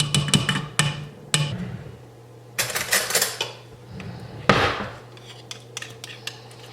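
A whole can of tomatoes being stirred in a metal pot, with a few sharp clanks and scrapes of the utensil against the pot between quieter stretches.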